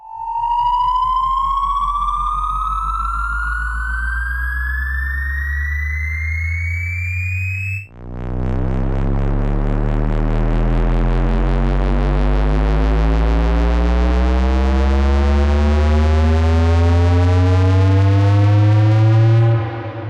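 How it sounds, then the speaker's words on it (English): A synth riser sample blending sine and square waves climbs steadily in pitch, a loud buzzing sweep that breaks off around the middle and restarts as a denser, distorted rising drone that spools up until the end. "That kind of spooling up effect, that big kind of maybe sine wave meets square wave."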